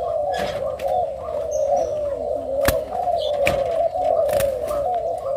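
Spotted dove cooing at a bird farm in Ca Mau, a steady, loud, close rolling coo that runs nearly unbroken, with a few sharp clicks and faint chirps from other birds around it.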